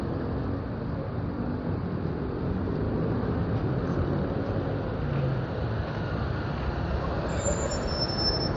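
A train running on rails in a Thai town, heard as a steady, continuous rumble with faint high squeals near the end, with no talk over it.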